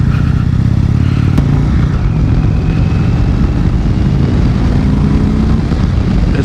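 A 2018 Indian Chieftain motorcycle cruises on a highway with its windscreen down, a loud, steady engine drone mixed with heavy rushing wind, continuous and close throughout.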